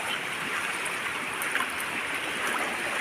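Water from a mountain spring at the foot of a rock flows in a steady, even rushing wash, moderately close, with no voices.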